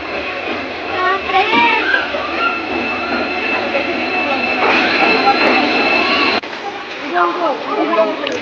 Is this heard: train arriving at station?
yes